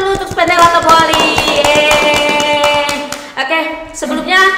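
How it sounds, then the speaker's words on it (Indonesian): A school group, Spendela Toboli, gets a short round of hand clapping in an indoor gathering, dense claps for a few seconds under singing-like voices and chatter. "boleh tepuk tangan dulu untuk Spendela Toboli"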